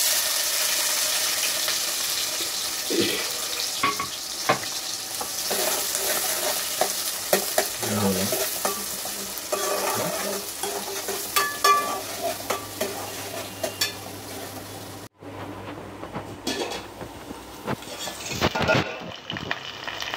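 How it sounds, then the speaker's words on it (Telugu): Chopped onion and green chilli frying in a hot oil tempering, a continuous close sizzle with steady scraping and stirring of a spatula in the pan, a brief pause near the end, then more stirring. "ఉల్లిపాయ పచ్చిమిర్చి కట్ చేసి పెట్టుకున్నానండి. ఇవి కూడా వేసేసుకుంటున్నాను"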